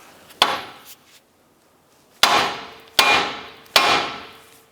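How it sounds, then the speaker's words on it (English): A hammer strikes the steering knuckle of a 2008-2013 Nissan Rogue to jar the tie rod end loose: one sharp metallic blow, a pause, then three more ringing hits in quick succession, loud and close. "I'm going to strike the knuckle with a hammer, and that should jar the tie rod end loose"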